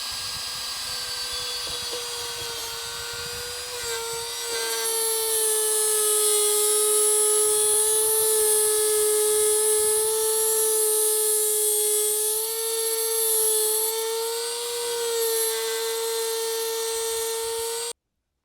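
A small trim router fitted with a 1/8 inch carbide bit runs steadily at high speed with a loud, constant whine that rises slightly as it cuts, continuous for most of the stretch and alone without speech.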